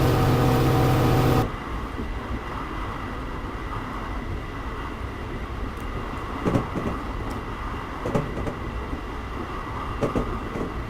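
An American passenger train rumbles steadily in Train Simulator 2016, with a loud tonal horn-like blast at the start giving way to continuous running noise and occasional clunks.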